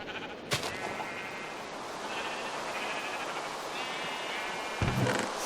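Minecraft sheep bleat in a wavering, nasal chorus of several overlapping calls over a steady background hiss, with a couple of sharp clicks near the start and end.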